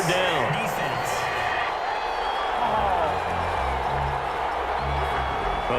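At a Bears vs Rams Monday Night Football game, a packed stadium crowd boos a penalty call with a loud, sustained roar that fills the whole stretch while commentators talk over it.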